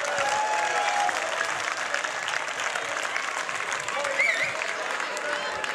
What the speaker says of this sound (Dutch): een groot applaus voor deze winnaars